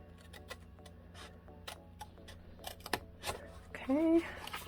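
Scissors snip paper along score lines for a Halloween treat box, a run of short crisp cuts close by, with someone talking over them.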